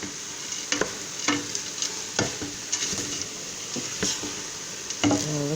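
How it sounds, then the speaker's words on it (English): Broccoli sauce is stirred into food cooking in a pan, with a steady soft sizzle and repeated scraping strokes of a utensil at an uneven rhythm, close and fairly quiet. "now I'm going to put in my broccoli sauce and mix that in really good"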